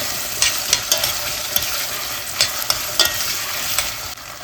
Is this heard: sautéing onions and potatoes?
yes